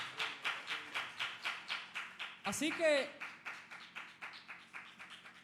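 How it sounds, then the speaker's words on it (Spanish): A church congregation claps together in a steady, even rhythm of about three claps per second, moderately loud, while a voice briefly speaks over the clapping partway through. "Dele un fuerte aplauso al Señor en esta preciosa tarde."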